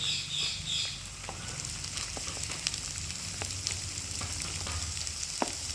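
Sliced onions fry in a pan for a vegetable stew served with idiyappam, a steady close sizzle with scattered pops and crackles running throughout, no talk.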